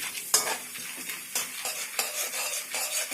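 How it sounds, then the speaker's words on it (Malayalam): Poha being stirred while it dry-roasts in a pan, a steady scraping and rustling with light sizzle, close and continuous with rhythmic strokes and no voices. "നല്ല രീതിയിൽ അതിനെ ഇളക്കിക്കൊണ്ടിരിക്കണം."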